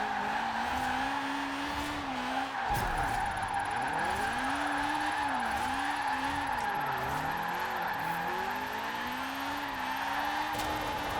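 Honda-powered Mini drifting downhill in Forza Horizon 4, a continuous engine drone rising and falling in pitch as the tires squeal and skid through the slide, loud and steady.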